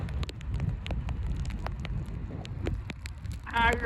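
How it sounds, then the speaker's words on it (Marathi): Rain falls steadily behind a villa in Lonavla, a dense continuous patter with scattered sharper drops, and a brief rising squeak near the end. "पाठीमागं पाऊस पडतोय"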